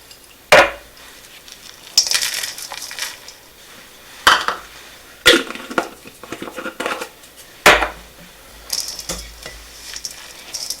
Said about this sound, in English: We are going to fold in 1 cup of the Andes mints that are ground up.